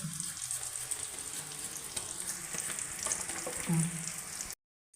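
Banana slices sizzle and crackle in boiling oil for chips, a steady frying hiss with scattered pops that cuts off abruptly at the end.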